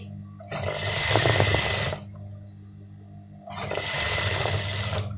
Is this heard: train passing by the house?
no